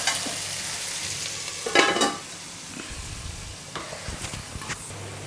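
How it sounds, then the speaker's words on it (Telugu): Onions frying in a covered pan for banana stem curry, a steady sizzle with a brief louder burst of spattering and a few scattered utensil taps and scrapes. "కొంచెం మూత పెట్టి ఒక 2 మినిట్స్ ఉల్లిపాయలు ఫ్రై చేసేసుకుందాం."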